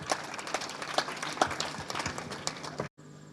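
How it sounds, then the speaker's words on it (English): Audience applause for a guest lecturer at an award-giving ceremony, a steady patter of many hands for nearly three seconds that cuts off abruptly into quiet room tone. "A round of applause for our guest lecturer"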